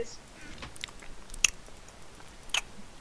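Soft close chewing and biting with a couple of sharper crunchy bites standing out, faint and intermittent over a quiet background.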